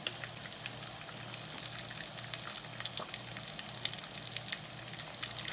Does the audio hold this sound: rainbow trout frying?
yes